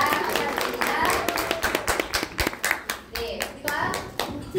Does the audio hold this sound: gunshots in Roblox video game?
no